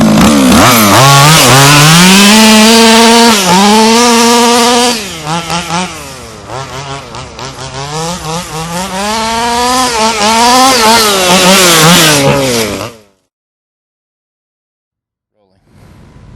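A small two-stroke engine runs loudly up close after a lean high-speed carburetor needle adjustment, revving up and down in rising and falling pitch sweeps before cutting off abruptly into silence.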